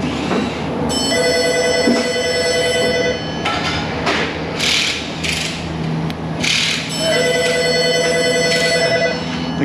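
A telephone rings repeatedly in an auto repair shop, its electronic trills coming in bursts over clanking shop noise, with no talking.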